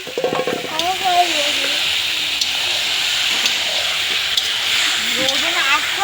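Garlic hits hot oil in a pan at an outdoor New Year picnic cook-up and gives a loud, steady hiss and sizzle that lasts the whole time, close by, while people talk briefly at the start and end.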